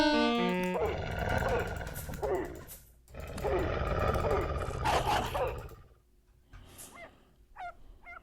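A puppy in the video game Vintage Story barks and yelps amid loud in-game noise, with a few sharp barks standing out near the end.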